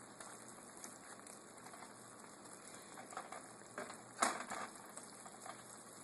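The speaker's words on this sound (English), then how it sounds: "You can see this is already boiling after a few seconds" A cornstarch-style slurry boiling in a pan on a stovetop: a faint, steady bubbling hiss with occasional small pops and one louder crackle near the end.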